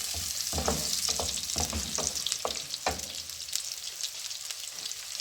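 Onions and garlic sizzle and crackle steadily in a hot pan, with occasional stirring scrapes and pops, close and continuous.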